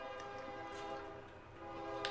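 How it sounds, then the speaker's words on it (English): An eastbound solid container train rolls past at Belle Plaine, a steady low rumble of rail cars with sustained tonal ringing and a brief brighter accent near the end. "We have a eastbound here at Belle Plaine. Looks like it's going to be a solid container train."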